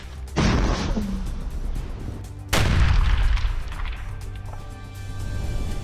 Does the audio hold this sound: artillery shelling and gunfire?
yes